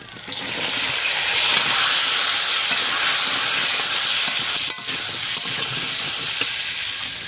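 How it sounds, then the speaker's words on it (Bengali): Potato pieces fried with salt and turmeric sizzle loudly in a pan as papaya is added, a dense, steady hiss and crackle with a brief stirring clatter near the middle. "আলুটা দেখুন লাল লাল করে ভাজা হয়ে গেছে এবারে আমি আলুর মধ্যে দিয়ে দিচ্ছি পেঁপে"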